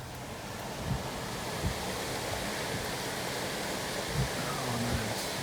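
A mountain creek flows steadily somewhere off to the side, a constant broad rush of water with no other sounds, apart from a few faint thumps like footsteps.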